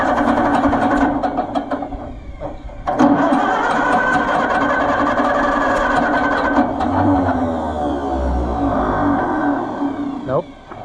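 Oliver Super 55 tractor engine with a rebuilt carburetor running roughly, its mid-pitched drone dipping and stumbling, loud and close, while someone speaks over it.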